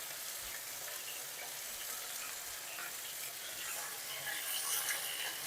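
Beef pieces searing in a hot pan for a lightened beef stroganoff, giving a steady, close broadband frying hiss that runs evenly throughout with no voices.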